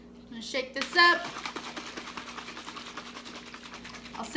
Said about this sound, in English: I'm gonna shake this up.